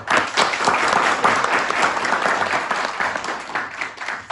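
A room applauds steadily and fairly loudly, dense continuous clapping from a group lasting the whole few seconds with no speech over it.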